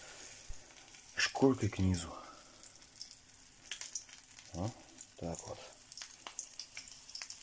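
Pike pieces sizzle and spit in a hot frying pan while someone talks over it, the frying crackle rising after pieces are laid down.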